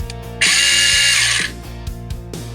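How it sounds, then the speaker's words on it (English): An airsoft SRC M4A1 with a pinion bevel gearbox cycling: a rhythmic mechanical gear whir in steady repeated strokes, with one loud, sharp, buzzing burst of continuous cycling near the start, close and clear. "A little bit less noisy, and that is as good as it can get with this pinion bevel gearbox"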